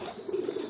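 Pigeons coo softly during courtship, a brief low throaty burbling call heard faintly and up close, with no talking.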